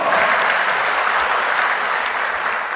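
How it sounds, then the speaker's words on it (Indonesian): Dense, steady applause from a large crowd at an Islamic institute graduation ceremony, loud and continuous throughout. "Tepuk tangan dong"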